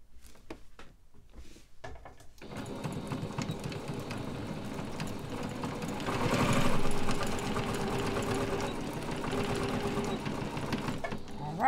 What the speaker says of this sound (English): Machines do not like to stitch on Velcro. You have to go right on the edge.